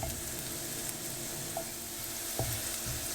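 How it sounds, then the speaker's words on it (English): Garlic clove cooking in a pan gives a soft, steady sizzle, quiet and even throughout, with a few faint clicks of stirring; no one speaks. "the first thing we're going to add is the garlic clove. We're just going to let the garlic cook up."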